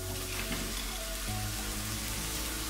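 Onions and mushrooms sizzle in a pan for a vegan pasta sauce, a steady close, soft crackling fry with no voices.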